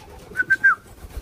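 White pet pigeon giving three short close coos in quick succession, soft rustle of movement around them, no voices.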